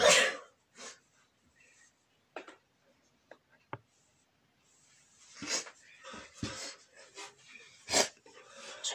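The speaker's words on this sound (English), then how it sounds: "Sorry about the sneezing." A couple of abrupt, breathy sneezes with sniffles and quiet shuffling between them, close to the microphone.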